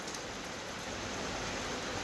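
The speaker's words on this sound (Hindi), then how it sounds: "ज़बरदस्त बारिश हो रही है" Heavy evening rain pours down in rural Haryana, a dense, unbroken hiss of drops that holds steady and fairly loud throughout with no other sounds standing out.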